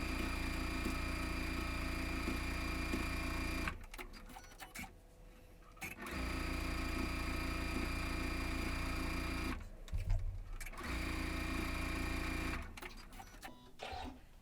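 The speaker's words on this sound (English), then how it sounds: "now I'm going to take it to the machine and sew on these solid lines" A sewing machine runs in steady whirring bursts while stitching arcs of a quilt coat, the loud mechanical chatter broken by short pauses before resuming, up close with no talking.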